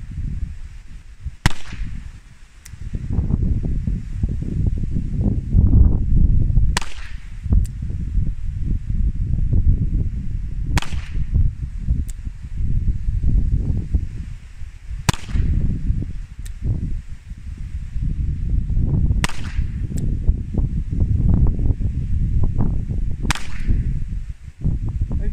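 Colt Police Positive revolver fired at a target, six sharp cracks spaced several seconds apart, loud and near over steady rustling outdoor background noise, no talking.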